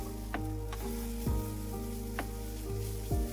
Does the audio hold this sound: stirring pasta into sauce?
yes